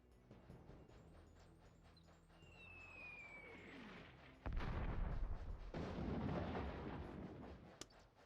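A Warhammer: Dark Omen video game battle opens with a faint whistling projectile, then a loud burst of gunfire and rumbling blasts that carries on for several seconds.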